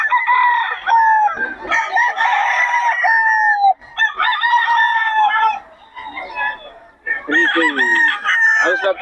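Roosters and chickens at a poultry spot in Bocaue crow loudly in long, overlapping calls, with clucking in between, close by and nearly continuous.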